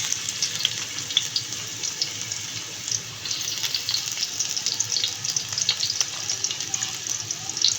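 Onions sauté in hot cooking oil with a steady crackling sizzle and occasional stirring, ahead of garlic and sardines with egg, running continuously at moderate loudness.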